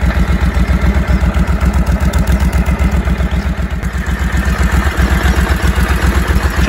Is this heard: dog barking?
no